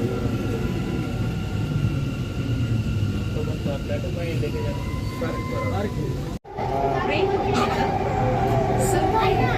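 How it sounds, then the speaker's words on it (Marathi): A steady loud rumble of a Bengaluru underground metro train running below Cubbon Park station, with a brief dropout midway before the roar resumes, voices faintly mixed in. "ही मेट्रो कब्बन पार्क या मेट्रो स्थानकापासून जमिनीखालून जाते"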